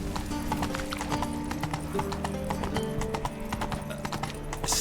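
Horse hooves clip-clop steadily at a walking pace in The Witcher 3 video game, with a brief whinny and ambient game music beneath, no talk.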